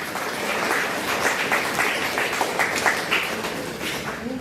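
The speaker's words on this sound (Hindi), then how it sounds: "एक बार विनोद जी के लिए जोरदार तालियां बजाइएगा।" Audience at a meditation session giving a round of applause, many hands clapping in a dense, continuous patter at even, moderate loudness from start to finish, with no clear talk over it.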